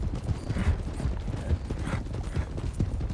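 Arabian horses' hooves clip-clop in Red Dead (RedM) in a steady walking rhythm of soft, close thuds, joined by faint creaking tack, with no talking over them.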